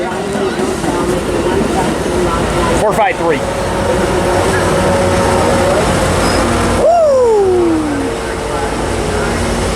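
A passenger train rolls through Fullerton station, a loud steady rumble with a sharp horn-like tone near the end, while someone talks and cheers excitedly over it.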